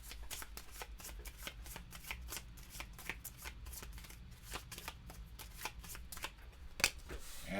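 Statue cards from a solo game of It's A Wonderful World are shuffled close up, a quiet, continuous run of riffling and shuffling flicks with one sharper snap near the end.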